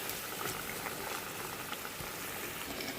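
Water bubbles at a steady boil in a pot of fish curry with helencha greens. The simmering is close, even and continuous, with soft popping throughout and no voices.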